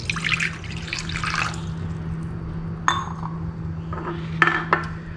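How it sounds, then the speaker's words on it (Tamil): Water poured over tamarind in a bowl to soak, with bright splashing bursts at the start, then a few sharper pours and clinks against a low steady kitchen hum. "இதை போட்டுட்டு ஃபஸ்ட்டு தண்ணி ஊற்றி கொஞ்சம் நேரம் ஊறட்டும்."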